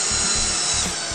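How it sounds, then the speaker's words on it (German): A power drill drives screws through wooden boards in short, close, loud bursts, its motor whine pulsing on and off about four times in quick succession. "Auf jeden Fall schrauben wir die jetzt oben fest."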